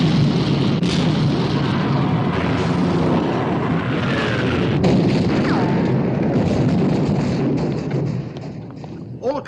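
Naval guns firing at the battleship Bismarck in a 1960 war film, rumbling booms and thuds rolling over continuous heavy battle noise, loud throughout and easing off near the end.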